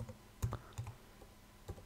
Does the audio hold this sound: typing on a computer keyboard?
yes